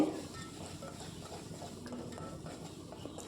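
Ground spinach gravy being stirred in a pan, soft repeated scraping and light utensil taps against the pan under a low steady background, close and moderately quiet.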